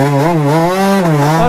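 A tuned 50cc moped engine screams at very high revs, a loud, sustained whine that dips slightly and climbs again within a second and a half, heard alone and up close.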